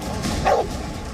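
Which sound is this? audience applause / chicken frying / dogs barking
dogs barking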